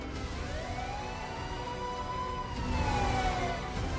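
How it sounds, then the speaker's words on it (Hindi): A police Gypsy siren wails in long rising and falling sweeps as the vehicle drives down a narrow street, steady and fairly near, with traffic rumble beneath and no voices. "गली में पुलिस की जिप्सी सायरन बजाते हुए दौड़ रही है।"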